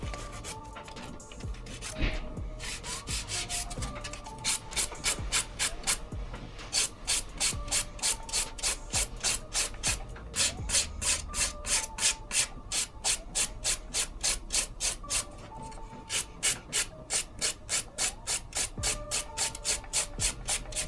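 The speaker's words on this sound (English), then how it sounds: "I'm going to go ahead and start filing these up now." Acrylic nails filed with a hand nail file, giving steady close rasping that becomes quick, regular back-and-forth strokes in a fast even rhythm throughout, with no talking.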